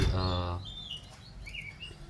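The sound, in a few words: canaries chirping while squabbling before mating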